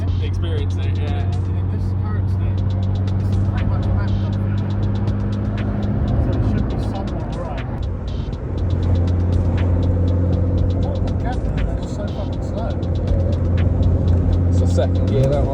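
A boosted BMW E36 accelerating hard through the gears, its engine a loud, continuous drone whose pitch climbs and drops back at each shift, with a brief lull near the middle before pulling again.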